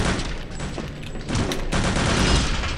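Grenade blasts and gunfire from the 2001 shooter game Return to Castle Wolfenstein form a dense, loud, continuous barrage of booms and shots with no voice over it.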